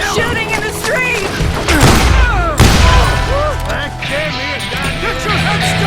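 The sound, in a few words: gunfire in a street shootout, video game Call of Juarez Gunslinger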